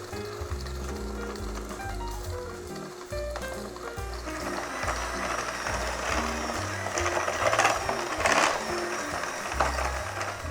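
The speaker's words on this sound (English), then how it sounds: "the first thing we're going to do is we're going to cream together our butter and our sugar" An electric mixer whirs steadily as it creams butter and sugar together for pound cake, a continuous close motor drone with some clattering against the bowl throughout.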